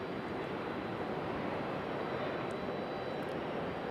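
Frontier Airbus A320neo arriving at Raleigh-Durham airport, heard as a steady, broad engine roar at moderate distance, continuous and unbroken with no voices.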